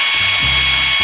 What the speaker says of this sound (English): So I'm going to go ahead and remove these 4 bolts